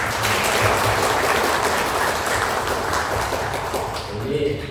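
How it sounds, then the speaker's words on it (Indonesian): Loud, dense applause from an office crowd at a celebration for sports tournament winners, a continuous roar of clapping that tapers slightly near the end, with voices mixed in. "Tepuk tangan."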